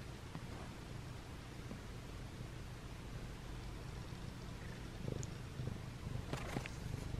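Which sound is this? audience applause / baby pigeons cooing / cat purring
cat purring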